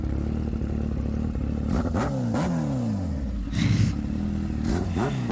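A close, loud H2R motorcycle's 998cc inline four-cylinder engine revs repeatedly, its pitch climbing and dropping in quick bursts over a steady idle.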